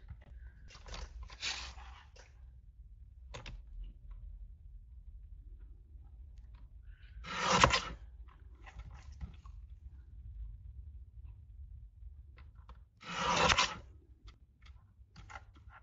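A paper trimmer cuts the excess off a card. Three brief, crisp slicing swipes stand out clearly, spaced well apart over quiet background handling.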